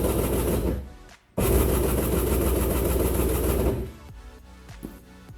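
An 1100cc two-stroke jet ski engine cranks over on the starter during a compression test, a loud rapid churning that pauses briefly, resumes, then stops, followed by quieter clicks and handling noises.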